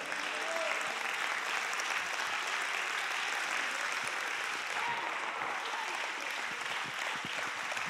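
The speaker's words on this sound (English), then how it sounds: "Somebody just stand and clap your hands to the Lord." Pentecostal church congregation clapping their hands in worship, a dense, steady wash of applause filling the sanctuary at moderate level for the whole stretch without a break.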